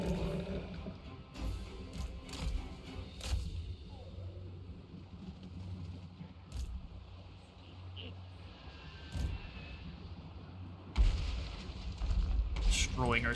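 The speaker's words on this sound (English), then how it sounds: "Here come the mortars." Mortar fire in a Total War: Warhammer battle between Lizardmen and pirate forces: deep booming blasts and scattered impacts over a rumbling battlefield din, with a few sharper cracks standing out.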